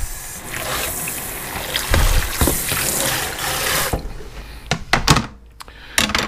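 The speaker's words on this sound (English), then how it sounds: "Let me rinse off my cutting board." Kitchen tap running into a sink as a cutting board and knife are rinsed, a loud steady rush of water for about four seconds, then the flow stops and gives way to several sharp knocks and clatters.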